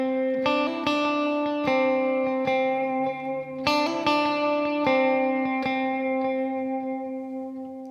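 Clean electric guitar notes ring out with a dotted eighth delay and reverb, each plucked note followed by rhythmic repeating echoes and a lingering wash, played alone in a slow, pretty pattern.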